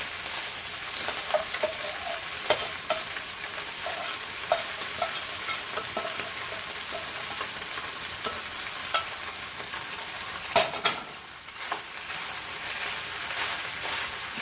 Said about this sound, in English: Now you're going to put your macaroni and cheese in there.